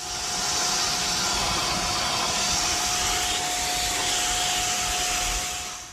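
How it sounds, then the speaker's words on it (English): Vacuum cleaner running steadily close up while cleaning the sunroof sliding rail of a Mahindra Scorpio-N, a continuous loud whooshing roar with a thin whine, no speech. "So we have vacuumed all the loose dirt"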